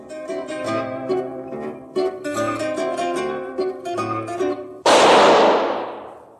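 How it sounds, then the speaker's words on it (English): After a passage of zither music, a single sharp gunshot cracks out loud and close, its echo dying away slowly as if in a tunnel, from a radio drama about Harry Lime set in Vienna's sewers. "That was the shot that killed Harry Lime."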